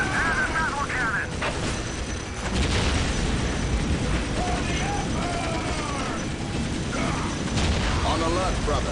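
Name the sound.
Leman Russ battle cannon firing in Dawn of War video game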